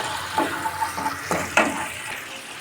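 Spice paste for potol posto stirred and fried in a pan, with soft scraping strokes and a faint sizzle coming in a few short bursts at moderate, close range.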